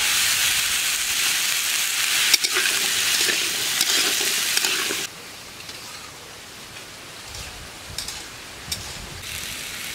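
Potatoes fry in a pan with salt, a steady broadband sizzle and hiss running loud for about five seconds, then dropping to a much quieter simmer with a few faint clicks and stirring taps.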